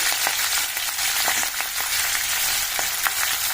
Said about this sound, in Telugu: ఫస్ట్ మెంతం కూర ఫ్రై చేసుకోవాలండి